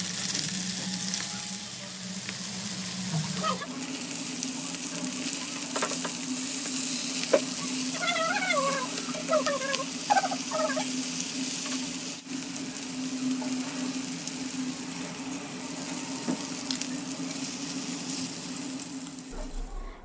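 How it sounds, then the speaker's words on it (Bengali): Hilsa fish lightly frying in mustard oil in a pan, a steady close sizzle that carries through the whole stretch, with a few scraping stirs and brief soft voices in the background. "তারপর একটি প্যানে সামান্য সরিষার তেল দিয়ে মাছগুলোকে হালকা করে ভেজে নিব"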